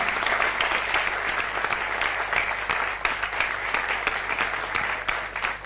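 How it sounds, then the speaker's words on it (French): An audience at an urban dance concert claps steadily and densely for the whole stretch, loud and continuous, with faint crowd noise underneath. "Vamos bater palmas mais uma vez."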